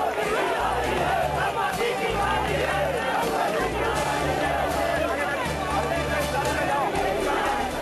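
A dense street crowd of political supporters in Varanasi, massed around an open jeep, keeps up a continuous roar of chanting and shouted slogans, loud and unbroken throughout with no single voice standing out.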